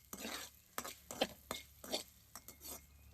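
A ladle stirs garlic frying in a pan, making repeated scraping, clinking strokes in an uneven rhythm over a faint sizzle, quiet and close.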